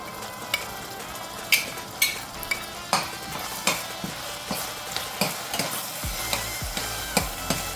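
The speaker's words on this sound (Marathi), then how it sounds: "हे देखील आपण तेलावर चांगलं परतून घेऊया" Ground spice paste with ginger-garlic paste fries in oil for a potato and masoor dal curry, with a low steady sizzle under evenly spaced sharp spatula strokes scraping the pan.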